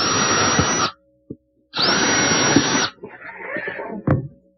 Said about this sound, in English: while the dado is still set up, I want to put a groove down the back of this plywood style as well as this poplar style